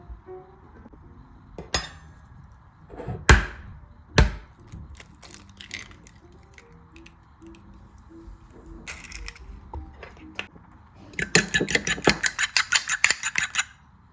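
An egg is beaten briskly with a fork in a bowl for an egg wash, a fast run of light, rhythmic clinking taps after scattered clatter from dishes and utensils, close and with no talking.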